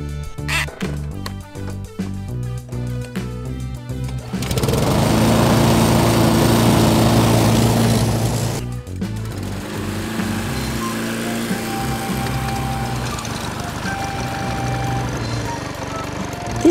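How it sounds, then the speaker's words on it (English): A gas push lawn mower for a small yard starts with sputtering, choppy bursts, then runs loudly as a steady engine drone before easing into a lower, quieter idle. "so it's perfect to use the push lawnmower"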